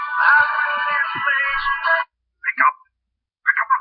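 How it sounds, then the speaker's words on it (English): A phone ringtone plays loud and clear, a steady melodic ring lasting about two seconds, followed by two short chirping bursts with silence between. "Come on, pick up the phone"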